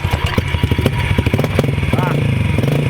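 110cc mini bike engine warming up near a lake house, a loud close-up putter with rapid regular pulses that smooth into a steadier idle, and a voice briefly speaking over it.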